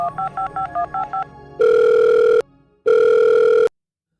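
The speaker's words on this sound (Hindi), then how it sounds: "फिर कुछ सोचते हुए फतेह की पार्टी के प्रेसिडेंट को फोन मिलाया।" A phone call being dialed: a quick run of about seven evenly spaced keypad tones, followed by two long, loud steady ringback or dial tones separated by a short gap, then silence.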